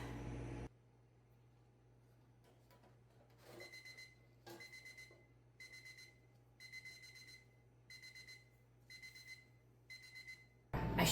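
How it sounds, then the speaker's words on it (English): A kitchen timer beeps in a steady series of about seven evenly spaced, bright electronic bursts, moderately loud over a quiet kitchen background. "now that we heard the timer go off"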